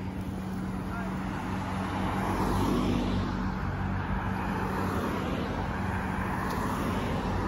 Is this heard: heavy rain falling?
no